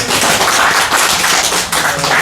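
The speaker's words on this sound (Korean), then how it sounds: "박수 한번 주세요" A church congregation at a Korean afternoon service gives a loud, close round of clapping for a brother in the pews, dense and steady for a couple of seconds.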